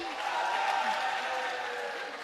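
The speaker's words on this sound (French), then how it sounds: "Ces applaudissements-là finissent vite." A crowd applauds in a dense wash of clapping that holds steady, then begins to thin toward the end.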